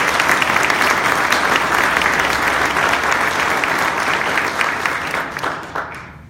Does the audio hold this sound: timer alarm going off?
no